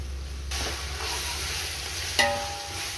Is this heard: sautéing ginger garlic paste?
yes